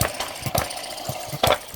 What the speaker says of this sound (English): The engine from my previous video is still working.